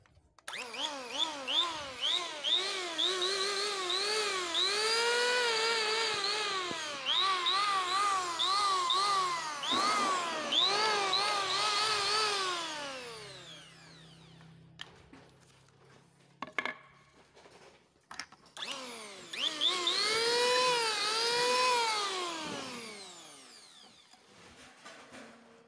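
A Makita/Bosch 3-in-1 cordless tool running in vacuum-cleaner mode makes a loud whirring motor whine that rises and falls in pitch, cuts out midway, then spins up again.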